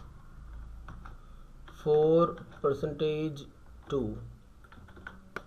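A computer keyboard is typed on in short bursts of light key clicks, mostly in the pauses of a man's nearby speech.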